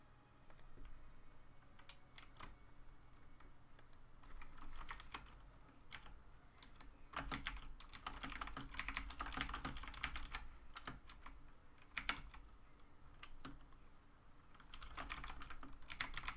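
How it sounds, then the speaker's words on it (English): Computer keyboard typing during a stock car racing stream from Myrtle Beach Speedway, with bursts of clattering key clicks, close and steady, pausing briefly between runs of keystrokes. "if you guys hear me typing, I'm typing to Bucky for his interview questions"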